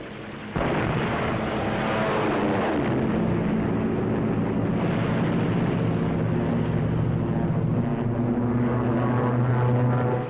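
A WWII US Navy fighter plane roars through a strafing run, its engine drone loud and continuous, with heavy gunfire rattling beneath, filling the whole stretch without any voices.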